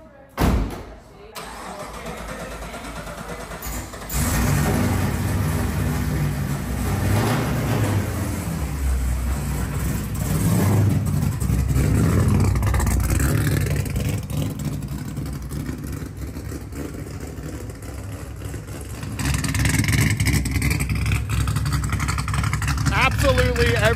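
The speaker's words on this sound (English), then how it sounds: "All right, so we got a quick 30-minute drive in the rain." A Lotus Emira First Edition with a V6 and manual gearbox starts up and pulls away in the rain, its engine note swelling loud and close inside the cabin, with people talking over it.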